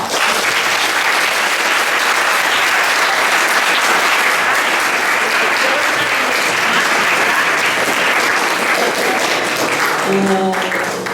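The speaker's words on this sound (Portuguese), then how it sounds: "Eu gostaria que a gente desse uma salva de palmas para" An audience at a school professions-week event gives a loud, sustained round of applause, dense continuous clapping that holds steady for about ten seconds before a faint voice or tone emerges at the end.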